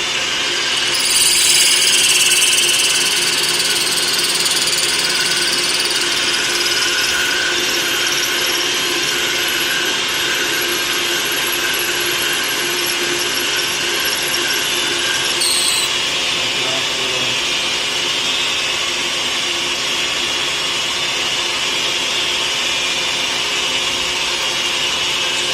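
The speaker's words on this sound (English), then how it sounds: "If you try using this parting tool on one of these smaller hobby lathes, it can't cut it." A metal lathe with a parting tool cuts a can wheel, giving a loud, steady high-pitched whine and hiss of the cut that runs unbroken for the whole stretch and eases slightly partway through.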